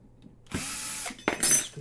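A powered screwdriver backing screws out of a plate on a Qidi Q1 Pro 3D printer, two short close whirring bursts separated by a brief pause.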